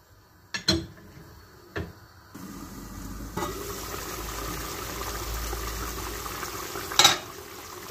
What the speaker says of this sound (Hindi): तो जी अभी देखिए पानी में बॉयल आ चुके हैं अच्छे से।